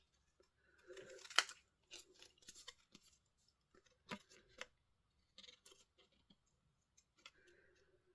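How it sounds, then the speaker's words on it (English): Small fussy-cutting scissors snip paper for handmade cards in a series of quiet, crisp, irregular snips and clicks separated by silent pauses, with no voices. "My scissors are actually for fussy cutting."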